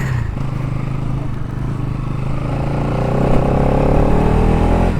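A motorcycle engine drones steadily close by and then swells louder as it revs up over the last couple of seconds, with no voices over it.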